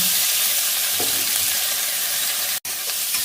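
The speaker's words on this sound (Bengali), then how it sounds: "আলুটা একটু ভাজা ভাজা করে তুলে আলুগুলো আগে দিয়ে দিলাম" Steady, close sizzling of potatoes frying in a little hot oil, a dense bright hiss with a few soft stirring scrapes and one brief cut near the end.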